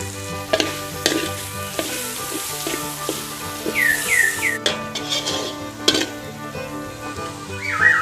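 Pork belly and sliced lemongrass stir-fry in a pan with a strong, continuous sizzle, sharp utensil clacks against the pan, and a couple of brief whistling squeaks.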